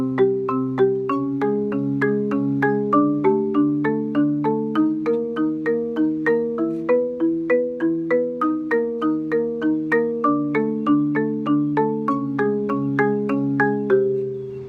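Marimba struck in a steady run of eighth notes with alternating mallet strokes, each bar evenly spaced and ringing with warm wooden tone, close and clear with no talking.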